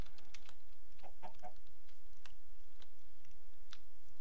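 Minecraft chickens clucking in short, faint bursts over soft clicking, with no talk during the clip.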